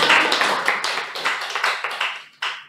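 Applause for a quiz winner at a Toastmasters club meeting, a small audience clapping with uneven sharp slaps that thin out, pause briefly near the end, then pick up again.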